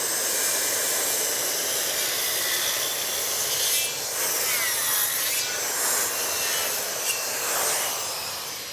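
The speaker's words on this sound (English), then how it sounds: "So we're just going to use the circular saw to run a whole lot of fins in here," A circular saw cuts a series of fins into wood for a garden border, a loud continuous whining rasp that stays close and steady throughout, with no talking.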